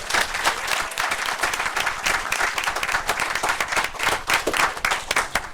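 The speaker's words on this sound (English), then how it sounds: "So if everyone would please just give them a round of applause." Applause for a girls' team at a city commission meeting, a room of people clapping with audible individual claps in an uneven, lively rhythm for several seconds, close and moderately loud.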